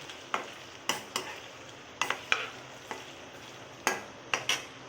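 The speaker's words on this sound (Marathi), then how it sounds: "तेलामध्ये आपण पनीर फ्राय करून घेत आहोत" Paneer frying in oil, heard as a soft steady sizzle punctuated by a series of sharp spatula taps and scrapes against the pan, fairly close and with no talking.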